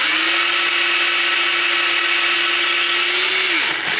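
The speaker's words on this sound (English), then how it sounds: "this drill bit is just big enough" A power drill bit bores steadily into a sculpture, a loud continuous whine holding one pitch for several seconds before winding down and stopping.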